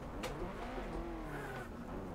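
A Subaru Impreza in a racing video game gives a continuous engine drone with low rumble and faint tire noise, steady and moderately loud, with no speech.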